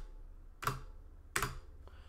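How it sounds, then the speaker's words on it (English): Spacebar on a Leopold FC980M mechanical keyboard with Cherry MX Black switches, pressed twice: two quiet, close clacks with a slight ringing tail, about a second apart, in a hushed room. "but I'm going to press the spacebar."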